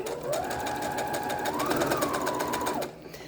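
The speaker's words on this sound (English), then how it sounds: "Drop your presser foot. Zigzag stitch. Straight stitch." Sewing machine running continuously to stitch paracord ties into a fabric face mask, a close steady hum that rises and falls in speed before stopping.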